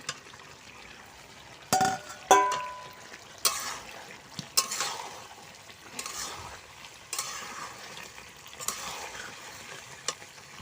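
Fried potatoes go into a pan and are stirred, bringing a soft frying sizzle under intermittent scraping and clattering spoon strokes against the pan, quiet and close.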